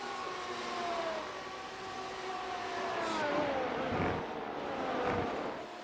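F1 race cars at Suzuka in a racing video game whine past at a distance, their engine tones sweeping downward as they pass, fairly faint and continuous with no talk.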